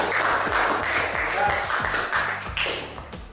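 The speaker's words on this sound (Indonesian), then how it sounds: "Tepuk tangan untuk Mbak Konita." Classroom applause from a group of students, a burst of many hands clapping with rhythmic taps, mixed with some voices and chatter, fairly close and steady for a few seconds.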